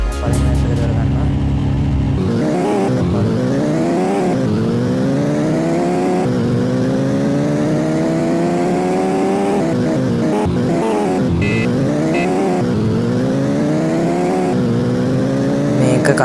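Engine and tire sounds in a mobile car racing game, a loud, close engine climbing through repeated gear-shift sweeps, dropping and rising again, with faint tire noise underneath.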